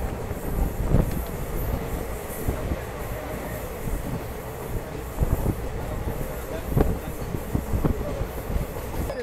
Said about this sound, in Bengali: আমাদের ট্রেন একদম রাইট টাইমে পৌঁছালো হচ্ছে জমিপুর রোড স্টেশন